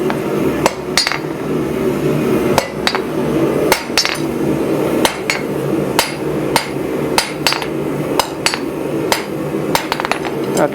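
Hot steel being forged with a hammer, sharp ringing metallic strikes landing in quick irregular clusters, loud and close over a steady background hum from the shop.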